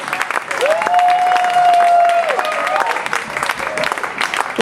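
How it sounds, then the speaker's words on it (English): A festival audience applauds a stage show loudly and continuously, with a sustained whistle cutting through the clapping near the start. "a big round of applause"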